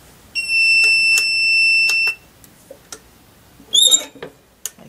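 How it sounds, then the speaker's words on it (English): Heat press timer buzzer on a T-shirt iron-on vinyl job, a steady high electronic beep held for nearly two seconds, then handling clicks and a short squeaky rustle. "when the buzzer goes off, I'm not in a panic to get this out of here"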